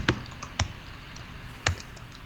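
A few sharp key taps on a computer keyboard, three isolated clicks spaced irregularly over a faint room hiss, close and fairly quiet, with no talking.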